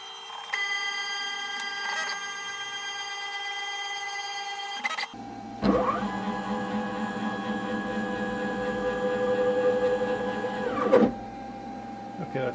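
A CNC router's stepper motors whine as the cutter head travels to rehome, first a steady tonal hum, then a louder, higher buzzing run for several seconds that stops abruptly.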